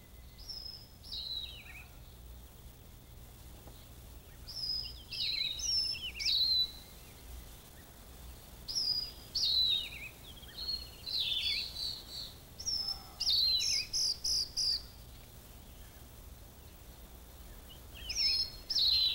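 Steere's babbler, a bird endemic to Taiwan's mountains at the boundary of medium and high elevations, gives repeated bright, clear whistled call phrases in separated bursts over a quiet background hiss.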